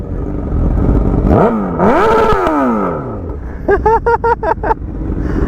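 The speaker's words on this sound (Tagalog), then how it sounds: "Ang lakas talaga na tambutso ni Dave, oh." A loud motorcycle engine revs hard, rising in pitch, then a series of sharp throttle blips, close and punchy.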